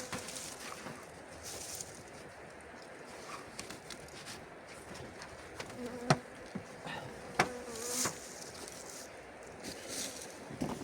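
Honeybees buzz steadily around an opened hive during a first spring inspection, a dense close insect drone with a few sharper passes of single bees flying near, heard alone without talk.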